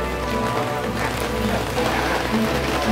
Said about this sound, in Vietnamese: ngoài trời mưa